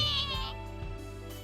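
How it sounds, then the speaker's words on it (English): A kitten meows loudly in an alley, one long high cry followed by a couple of shorter, fainter whines, close and alone. "A kitten begins to whine loudly in response to her presence."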